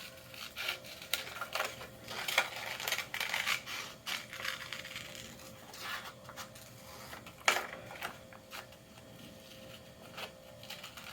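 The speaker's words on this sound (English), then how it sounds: "And we are going to cut that out." Scissors cut out a long, bushy paper foxtail shape for an origami bookmark, heard as close, faint, irregular snipping and rustling of paper in short bursts with no talk.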